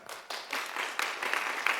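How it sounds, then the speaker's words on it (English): A room at a city commission meeting breaks into applause, a steady dense clapping that builds slightly and holds, moderately distant with little talk. "We can clap."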